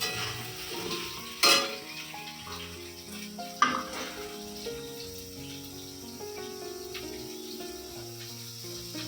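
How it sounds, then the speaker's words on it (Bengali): Potatoes fry in a pan, giving a soft, steady sizzle with stirring and a couple of sharp utensil clanks, fairly quiet under background music. "আলু ভাজা হচ্ছে, হোক"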